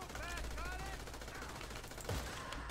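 Faint automatic gunfire chatters from GTA V's Cayo Perico heist finale, sustained bursts buried under a busy game soundscape, with one sharper impact near the end.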